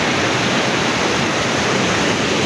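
A river at Sitang, Nepal, rushes past in a steady, loud broadband wash of flowing water that stays even and continuous, with no voices over it.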